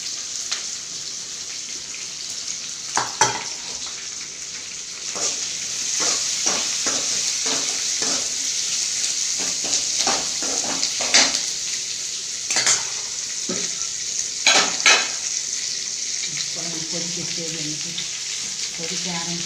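Onions and curry leaves sauté in a hot pan for sambar, with a steady close sizzle broken by repeated scraping and stirring clatters of a utensil against the pan.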